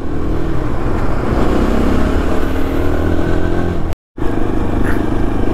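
Adventure motorcycle on a road trip between Omkareshwar and Ujjain in Madhya Pradesh, accelerating to overtake a smoke-spewing vehicle: a loud, close, steady engine roar with rushing wind throughout, cut by a brief dropout near the end.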